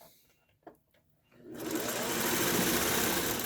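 After a second of near silence and a small bump, a sewing machine starts stitching a fabric mask, then runs in a steady, loud, continuous whir close by.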